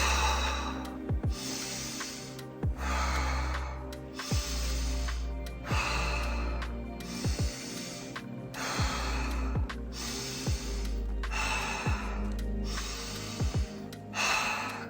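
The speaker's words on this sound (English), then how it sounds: "Breathing in through the nose," Rhythmic breathwork with steady cycles of a sharp inhale through the nose and a forceful exhale through the mouth, repeated about a dozen times, close and loud over a soft sustained music drone.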